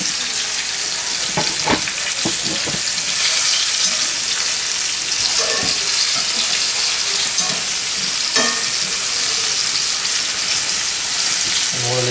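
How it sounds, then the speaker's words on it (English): Venison shanks searing in a hot pan, a steady broadband sizzle and hiss running throughout with occasional stirring clatter, close and loud. "You want to sear them up real good."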